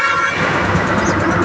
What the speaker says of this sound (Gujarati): એટલો બધો હોરન આવે છે